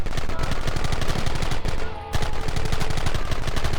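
Gunfire in Red Dead Redemption crackles in a rapid, continuous volley of loud shots, nearly unbroken apart from one short pause, with no speech.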